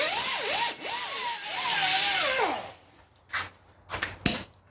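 Metal surface on a Porsche Cayenne brake being scuffed by hand, a close, fairly loud rubbing and grinding with wavering pitch for a few seconds, followed by a few short scrapes.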